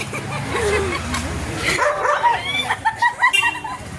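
A dog gives a few short yips and barks, brief and fairly close, mixed in with people talking in the background.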